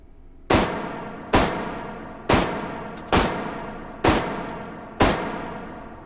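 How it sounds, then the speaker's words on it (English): Pistol shots in the H3VR virtual reality shooting range, a German handgun from the pre-WWI to WWII era: six sharp, loud reports spaced about a second apart, each ringing out briefly with a faint metallic clink between them. "let's pop some rounds off. See what all the fuss is about."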